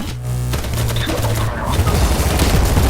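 Rapid bursts of gunfire in the video game BattleBit Remastered, loud and continuous for the whole stretch, with dense overlapping shots and low thumps.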